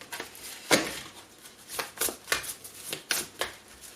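Tarot cards shuffled up close in a handful of quick, papery bursts and flicks, each separated by short pauses.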